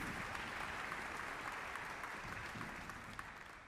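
Audience applause at a high school honor band concert in a hall, a steady dense wash of clapping from a large crowd that holds for several seconds and tapers slightly at the end.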